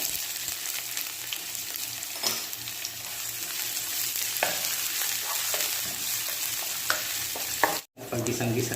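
Garlic and onion sauté in a hot pan for ginataang tilapia, with a continuous bright sizzle and repeated scraping strokes from a spatula, close and steady with a brief cut near the end.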